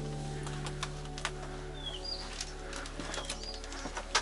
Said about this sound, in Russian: Слышу, что внутри птицы летают.